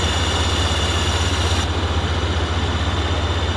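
A KOLOS combine harvester engine idles in Farming Simulator 2017, a steady low, throbbing drone with a constant pulsing rumble and no voices.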